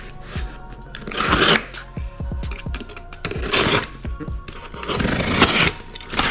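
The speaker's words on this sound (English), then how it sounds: "now I'm going to show you an unboxing of the injectors." A box of new fuel injectors for a car is unboxed up close, with continuous crinkling paper, cardboard scraping and small hard clicks and taps from handling the parts, no talking.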